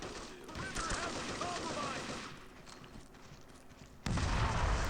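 Gunfire and explosions from the Xbox game Brute Force sound as a busy barrage of shots and bursts, dense and mid-level, ending with a louder booming blast.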